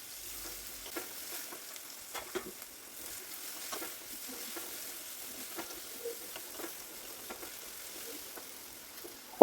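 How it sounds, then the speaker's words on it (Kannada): Curry leaves, potato, capsicum and other vegetables fry in oil for avalakki bisibele bath, making a soft, steady sizzle dotted with light stirring taps and spatula scrapes. "ಈ ಕರಿಬೇವು, ಬೆನ್ನೀಸು, ಆಲೂಗಡ್ಡೆ, ಈ ಡಬ್ಬು ಮೆಣಸಿಗೆ ಎಲ್ಲ ತರಕಾರಿ ಹಾಕಿ ಒಂದು 2 ಮಿನಿಟ್ ಫ್ರೈ ಮಾಡ್ತೀನಿ"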